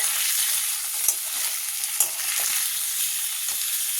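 Paneer pieces frying gently in oil, giving a constant bright crackling sizzle with a couple of small pops and light stirring touches.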